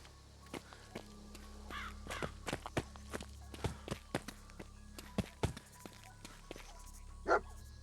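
Footsteps tread steadily through a Fallout 4 game scene, while the dog companion Dogmeat gives a short bark near the end, all over faint ambient background sound.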